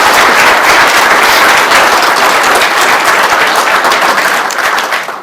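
Loud, dense audience applause fills a retirement ceremony for sheriff's office staff, sustained clapping from a crowd that tapers off at the end.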